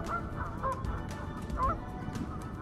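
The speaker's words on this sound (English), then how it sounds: "And of course, all the Canada geese," Canada geese honking in a short burst of calls, several honks at moderate distance over steady outdoor background noise on a river.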